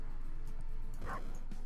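A cartoon pug barks once in the Turbo Pug arcade video game, a short yappy burst rising over a steady wash of game music and effects.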